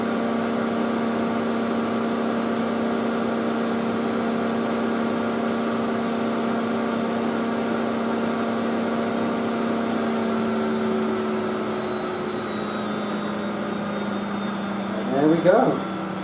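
A Miele W562 Prestige Plus 6 washing machine runs a double-duvet wash with Formil non-bio tabs, giving off a steady tonal motor hum that eases slightly partway through, with a short rattling burst near the end.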